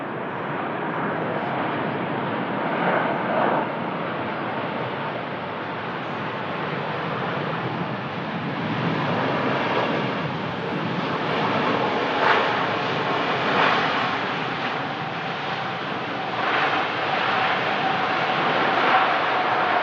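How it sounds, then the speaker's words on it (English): The world's largest passenger airliner comes in to land, watched by plane spotters. A loud, continuous jet roar holds steady for the whole stretch with slow swells in intensity, and there is no talk. "The biggest passenger aircraft in the world, ladies and gents."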